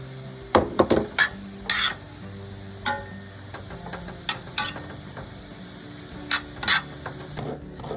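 Vegetables and garlic stir-frying for brown rice fried rice, with scattered utensil scrapes and clacks against the pan over a soft background sizzle, close and moderately quiet.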